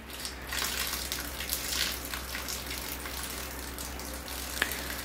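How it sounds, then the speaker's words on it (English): Water drains from a bonsai tray holding a wind-blown Scots pine, a steady trickling gush with small splashes and a faint low hum beneath, no talk. "So I drain the water"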